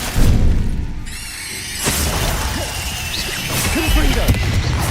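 Glacius ice spell in the video game Hogwarts Legacy amid a fight with spiders, a sharp crash and shattering burst under dense battle noise and whooshes, with a voice shouting over it.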